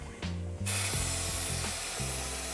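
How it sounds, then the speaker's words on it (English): Spray glue hisses loudly from a can onto a van wall being carpet lined. A sputtering onset gives way to a continuous broad spray, with faint mechanical ticking underneath and no talking. "It's the glue not spraying properly, not me."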